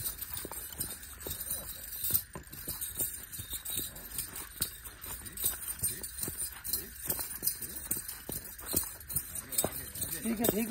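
Horse hooves clip-clop in a quick, uneven rhythm during dance training, the sharp clicks running steadily beneath voices talking over them.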